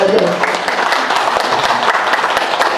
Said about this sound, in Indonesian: tepuk tangan dulu buat Bang Raja